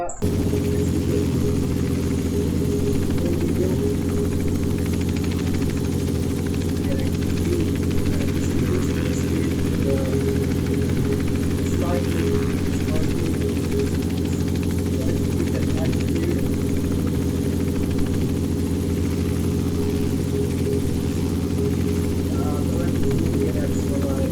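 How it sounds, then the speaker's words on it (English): A helicopter engine in a flight simulator game drones as a loud, steady hum with a constant low rumble and no breaks. "Look at what my helicopter is doing"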